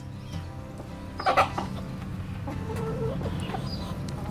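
Caged male quail call amid steady background noise, with a brief burst of loud calls near the middle and fainter chirps later, fairly close.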